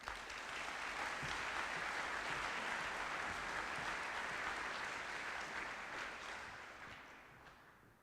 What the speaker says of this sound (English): Let's please offer another round of applause to the endowed scholarship recipients.